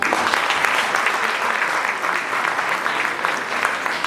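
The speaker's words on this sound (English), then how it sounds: "So please give him a round of applause." Steady audience applause at a Togo independence anniversary event, dense and even clapping that holds at a constant level throughout with no voices over it.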